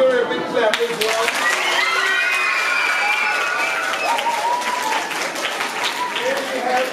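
An audience at a school musical play claps continuously throughout, a dense, fairly loud round of applause mixed with crowd noise and voices.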